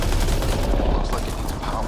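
Rapid, dense turret gunfire in the video game Mass Effect: Andromeda, a loud continuous burst of close shots with heavy low-end rumble, filling the short moment without pause.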